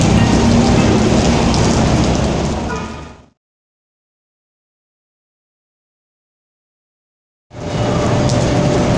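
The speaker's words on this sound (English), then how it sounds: "It started raining again here in People's Park" Steady, loud rain falls outdoors in People's Park, a dense hiss of drops. It cuts to near silence partway through, then returns just as strongly at the end.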